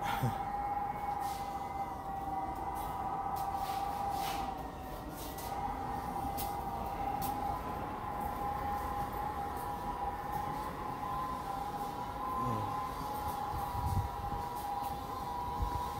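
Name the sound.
Paris Métro Line 14 MP14 train arriving with a rush of air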